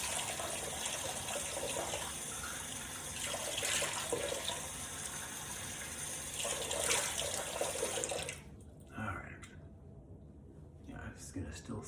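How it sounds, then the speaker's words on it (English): Cold tap water running and splashing as a face is rinsed after a shave, a steady close wash of running water that stops abruptly near the end, leaving a few faint drips and small movements. "I'm getting my face washed off with cold water here"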